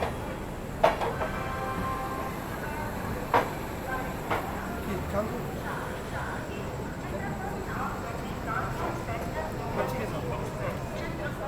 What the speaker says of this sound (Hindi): आपको दिखाता हूँ कानपुर सेंट्रल पर अपनी ट्रेन का अराइवल